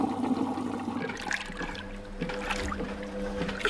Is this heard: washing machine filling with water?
yes